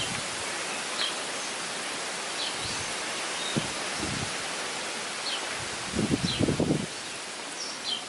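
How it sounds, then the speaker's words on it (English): Wind rustles leaves outdoors near milkweed plants as a steady broad hiss, with a few brief louder gusts and faint bird calls in the distance. "Oh, the wind."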